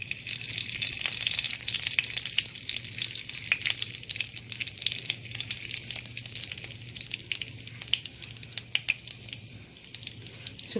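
Panch phoron spices fry in hot refined oil, giving a steady, fairly quiet sizzle with scattered small crackles and pops, heard alone and close.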